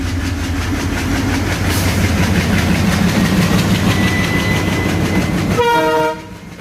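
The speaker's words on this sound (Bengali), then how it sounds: "ট্রেন আসছে স্টেশনে" A train rumbles steadily along the track with a continuous rolling roar as it arrives at a station in Darshana, Chuadanga, Bangladesh, then a loud horn blast sounds near the end.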